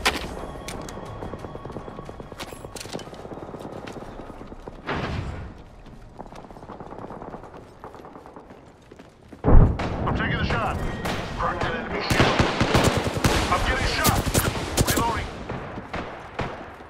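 Gunfire in the battle-royale video game Apex Legends: dense bursts of shots and booms, quieter and sparse at first, then loud sustained firing over the final seconds, with game sounds and voices mixed in.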